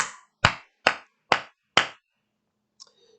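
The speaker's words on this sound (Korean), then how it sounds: "우리 하나님께 영광의 박수를 내드립시다." Five sharp, evenly spaced hand claps ring out in a church during a Korean Sunday worship service, each a crisp loud burst with a short decay, followed by silence and a faint brief sound near the end.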